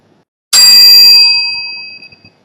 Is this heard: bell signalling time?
yes